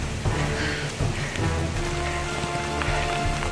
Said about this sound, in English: We got hail the size of little pebbles.